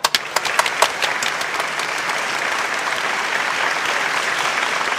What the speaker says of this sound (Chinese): 现在我们以最热烈的掌声来欢迎两 位新人的入场